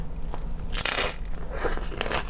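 Crispy Filipino-style pork rinds are bitten up close, giving a couple of loud, sharp crunches followed by softer crackling chews.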